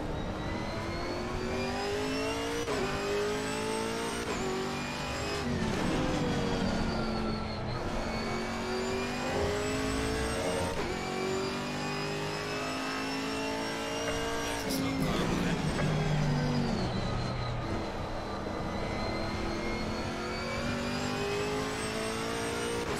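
A GT4 race car engine in a multi-class race drones loud and close, its pitch climbing through each gear and dropping sharply at the shifts, with a touch of tyre noise.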